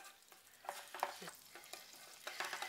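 Pork coated with egg white and starch sizzles in oil over low heat while chopsticks stir and separate the pieces, giving a soft crackling fry with scraping and clicking touches, close but quiet.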